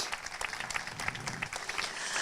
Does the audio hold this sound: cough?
no